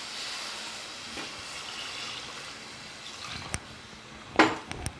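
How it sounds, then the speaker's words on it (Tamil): Water poured into a pot of mutton intestine gravy, a soft, close trickling stream with a few clinks and knocks of the vessel toward the end. "நம்ம தண்ணி ஊற்றிடுங்க."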